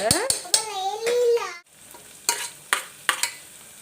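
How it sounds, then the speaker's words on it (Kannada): Cucumber masala fries in a pan for a North Karnataka cucumber dish, with sharp spatula scrapes and stirring clacks over a soft sizzle; a high wavering voice-like tone sounds during the first half. "ಇಷ್ಟು ಫ್ರೈ ಆದ್ರೆ ಸಾಕು"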